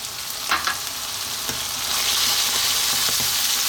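Creamy tuna pasta sauce with cream cheese and grated parmesan sizzles and frys steadily in a pan over high heat, stirred throughout with a constant hiss and occasional scraping clicks, close and continuous with no talk.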